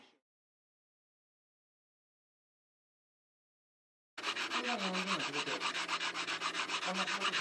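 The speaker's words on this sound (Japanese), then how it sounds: "三味一体面出し研磨、面出し研磨" Polishing of an Autorosen car wheel for surface leveling: after a brief faint scrape and a long silence, a loud, steady, hissing rub runs continuously to the end.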